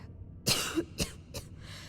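A rough, throaty coughing fit of three or four bursts from a character in the video game Starfield, fading slightly toward the end, heard up close without speech.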